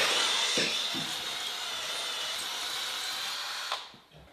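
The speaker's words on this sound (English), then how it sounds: "and then give it another go with the mechanical mixer" Mechanical mixer whirring steadily as it mixes epoxy grout in a container, close and loud, winding down at the end.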